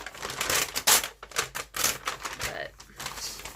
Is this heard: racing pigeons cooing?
no